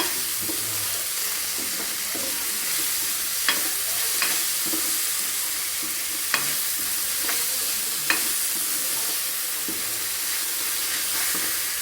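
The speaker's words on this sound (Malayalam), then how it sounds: "നമ്മൾ മസാല ദോശയ്ക്ക് ആവശ്യമായ ഉപ്പിട്ട് കൊടുക്കുന്നു നല്ലതുപോലെ ഒന്ന് ഇളക്കുക" Masala dosa filling with salt is stirred in a pan over steady sizzling, with scattered sharp scrapes of the spoon against the pan.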